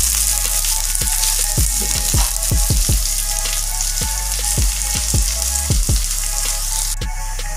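Onion fries in a pan with a loud, steady sizzle, broken by repeated sharp clicks and taps of a spatula stirring against the metal, close up and with no voices.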